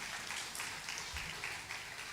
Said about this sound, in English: Let's give a big round of applause for our nursery students for showcasing their talent.